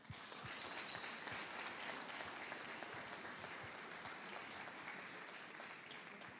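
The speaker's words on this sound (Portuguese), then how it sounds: "Aplaudam o Senhor." A church congregation applauding during a Portuguese-language service, with steady sustained clapping from many hands that fills the room, even and continuous without pauses.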